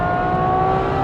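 Ferrari 812 GTS V12 fitted with a Novitec exhaust, a loud sustained engine drone heard from close by, steady and unbroken through the brief moment.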